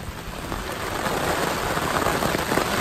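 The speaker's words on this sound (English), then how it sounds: "Oh man, it's pouring now." Dense, heavy rain hisses and drums steadily on a tarp shelter nearby in the Cabinet Mountains Wilderness, a loud continuous downpour without any talking.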